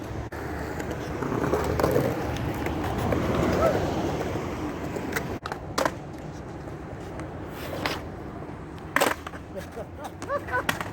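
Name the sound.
skateboard rolling and attempting a rock fakie on a quarter pipe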